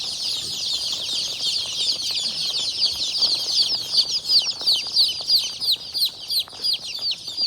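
A crowd of tiny day-old country chicks peeps constantly, high and shrill, with many overlapping cheeps close by and no talking.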